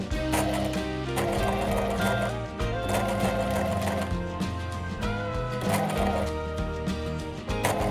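Sewing machine stitching a tiny hem on a Liberty lawn dress bodice, a fast steady mechanical whirr that runs continuously and close up, with brief slowdowns between bursts.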